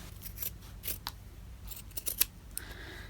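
Sharp, quiet snips of scissors trimming fabric and batting on a sewn zipper pouch, several separate cuts in an uneven rhythm, close and alone.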